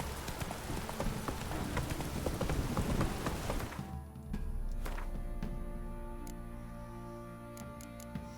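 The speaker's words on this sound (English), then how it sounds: "This downpour's a bastard, it is." Heavy rain downpour in The Witcher 3, a loud, dense rush of rain mixed with horse hooves clopping that cuts off abruptly midway, leaving quieter scattered drips and ticks afterward.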